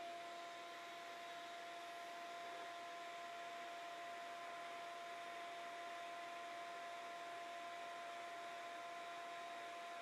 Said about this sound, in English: Now let's hook up the dust collector, see where it's at.